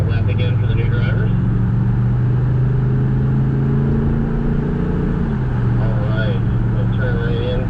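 BMW M car on a race track accelerating out onto an out lap: a loud, close engine note rises and holds under continuous talk over the engine.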